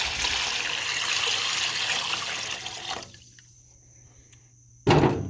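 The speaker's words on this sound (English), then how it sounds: "I'm gonna fill that up with water." Steady water pouring and splashing into a pan in the bottom of a grill for a few seconds, then quieting to a faint trickle before a sharp clunk near the end.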